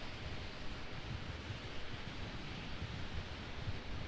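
Strong storm wind blows at Raleigh-Durham International Airport as a faint, steady broadband rush with gentle gusting swells and no voices.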